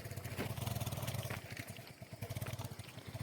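A motorbike crosses close by with a throaty engine drone, loud at first and then dropping into a rougher, chugging pulse as it moves along.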